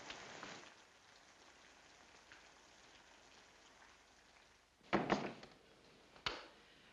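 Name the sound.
rain falling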